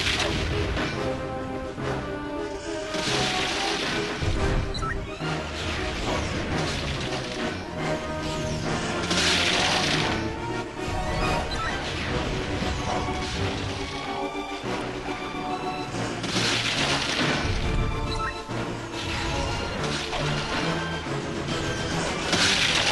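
Repeated rocket blasts and crashing impacts from tri rockets fired at a praying mantis boss in Jet Force Gemini, booming at a steady pace over a busy game soundtrack.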